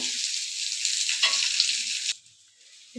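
Potatoes and cauliflower pieces fry in a pan with a loud, steady hiss and crackle for about two seconds, then the sizzle drops away to a faint simmer.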